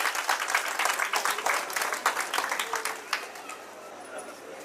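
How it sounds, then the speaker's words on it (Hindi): Audience at a cooperative credit society's annual function claps vigorously for an honoured guest, lively uneven claps that thin out and fade over the last second and a half. "जोरदार तालियां इनके लिए बजती रहनी चाहिए।"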